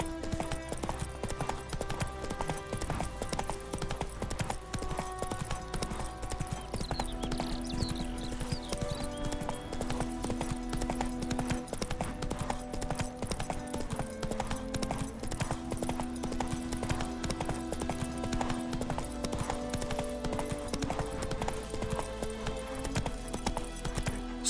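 Roach, a horse in The Witcher III, trots with steady, rhythmic hoof clip-clops over a low hum of game music, the hoofbeats close and continuous throughout.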